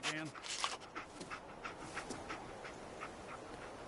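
Dogmeat the dog in Fallout 4 panting softly in quick, rhythmic breaths at close range, with a short voice at the start.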